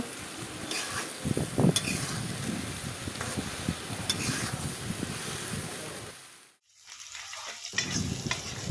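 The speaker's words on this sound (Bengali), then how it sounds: "কড়াইতে সয়াবিনের জন্য পেঁয়াজগুলো লাল করে ভেজে নেওয়া হবে দেখতে থাকো পেঁয়াজগুলো তেলে দেওয়া হয়েছে" Onions fry in oil in a wok for a soybean dish, cooked outdoors near a Kali Puja pandal; a loud, continuous sizzle with stirring scrapes cuts out for a moment, then resumes.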